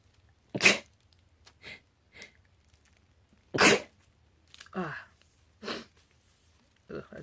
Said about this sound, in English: I just felt weird sneezing just then